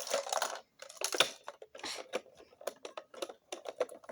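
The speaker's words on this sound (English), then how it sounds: "This thing is like the most rattly I've ever heard. It's got like a maraca." An Emerson iPod docking station being shaken, its loose insides rattling like a maraca: a close series of quick, irregular clicky rattle bursts with short gaps between them.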